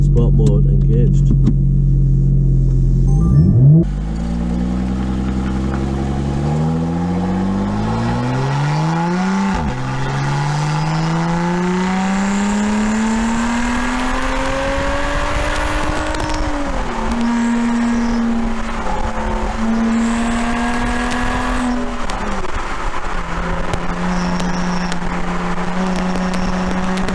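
A Lotus Evora Sports Racer's engine in sport mode revs and climbs through the gears, its pitch rising and dropping with each shift in a loud, steady drone heard from inside the car, with no voices over it.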